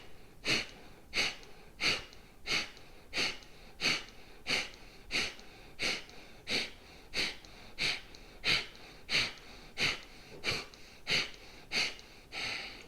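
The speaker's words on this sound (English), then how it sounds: "A nice sharp forced exhale." A steady series of about fifteen sharp, forced exhales through the nose during a yoga breathing exercise, evenly paced roughly every 0.8 seconds, close and clear with quiet inhales between.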